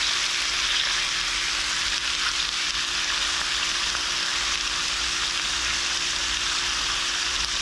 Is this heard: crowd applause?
no